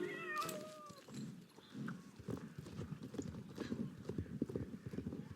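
A small cat meows in the Star Stable video game, a short high mewing call near the start, followed by rhythmic horse hoof clip-clop and game sounds.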